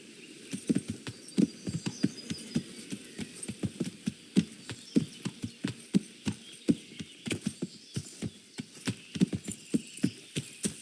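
Rhythmic horse hooves clip-clopping steadily at a trotting pace in the video game Kingdom Come: Deliverance, fairly close and crisp, with no voices.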